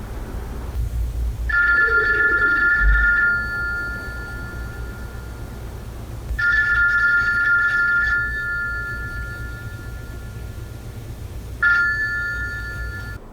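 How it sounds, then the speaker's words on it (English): A telephone rings in the 1985 film After Hours, three separate electronic trills spaced several seconds apart, clear and fairly close over a faint low background hum. "they waited for that phone to finish ringing like it was a threat"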